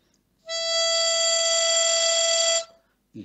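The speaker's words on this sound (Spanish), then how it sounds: "La nota, si yo toco la nota simple, recta, sin hacer nada, suena así." A harmonica sounds one plain, straight sustained note with no vibrato, steady and clear for about two seconds, close and alone with silence on either side.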